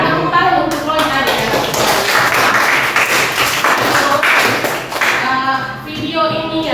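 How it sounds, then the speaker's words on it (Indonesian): Classroom applause for a student named Roy, a burst of clapping from pupils filling the room, with a teacher's voice and chatter mixed in over it. "Ya, tepuk tangan untuk Roy tadi."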